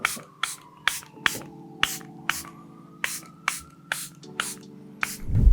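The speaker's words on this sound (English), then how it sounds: "To set the makeup, I'm going to use Charlotte Tilbury Airbrush Flawless Makeup Setting Spray." Charlotte Tilbury Airbrush Flawless makeup setting spray is pumped about eleven times in a steady rhythm, each spritz a short, close, crisp burst of mist, with no talking.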